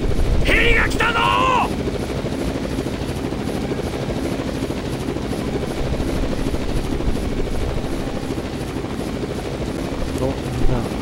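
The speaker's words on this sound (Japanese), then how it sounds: "ヘリが来たぞ。" Helicopter arriving in the PS2 disaster game Zettai Zetsumei Toshi 2, a loud continuous rotor thrum with dense choppy beating that fills the whole stretch, with a brief voice near the start.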